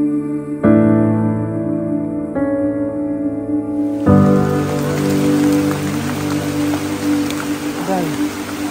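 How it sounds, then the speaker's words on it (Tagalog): Heavy rain pours without pause on a mountain, making a loud, dense, continuous wash of sound with sustained tonal hums in the background. "Walang tigil ang pagbuhos ng ulan"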